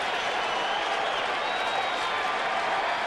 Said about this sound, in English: Listen to the crowd starting to get behind their ace right-hander.